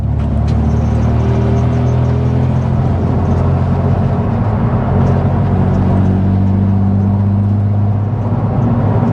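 Loud, droning engine noise from a modified Renault Megane RS track car driving along, with steady low harmonic hum and road rumble throughout, no voices.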